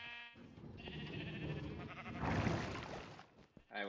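Sheep in an automated sheep farm in a video game bleat continuously, several overlapping wavering cries clustered together at moderate loudness with no talk.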